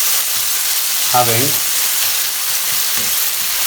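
Onions frying and steaming in a covered pan over medium heat for a chickpea and potato curry, a steady close hiss and sizzle filling the whole clip, with a brief spoken word partway through.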